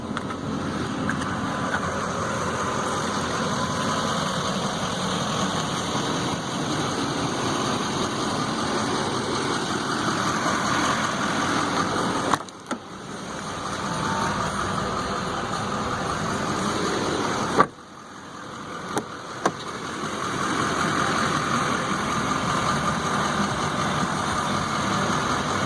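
A 2015 Chevy Silverado 2500 4x4 Duramax diesel truck idles with a steady, moderately loud engine drone, broken twice by brief dropouts and clunks.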